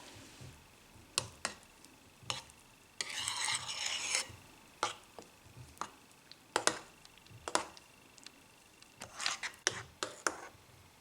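Crème fraîche being stirred into a carrot, potato and onion velouté, grandmother-style: irregular close spoon scrapes and light clinks against the pot, coming in short bursts with quiet gaps and no talking.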